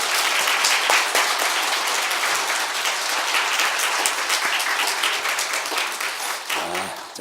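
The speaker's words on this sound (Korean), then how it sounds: "우리 한번 박수 한번 칩시다." A church congregation claps together for several seconds during an afternoon Sunday service, with dense and steady applause and a voice briefly audible near the end.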